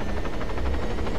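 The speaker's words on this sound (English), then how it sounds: "Oh shit, the chopper." A helicopter in a survival video game beats out a quick, loud rhythmic rotor chop in one brief close burst, with no voices.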